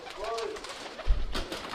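Pigeons in a loft collection of Pakistani breeds give soft, low coos, brief and faint, with a voice talking nearby and some handling bumps.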